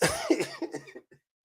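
A short fit of coughing, a few rough hacks close up that taper off quickly into silence.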